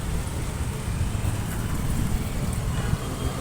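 Steady roadway rumble at a rickshaw stand by the Dapoli bus station, engines and passing vehicles blending into a continuous low drone with a faint wind wash, no clear speech.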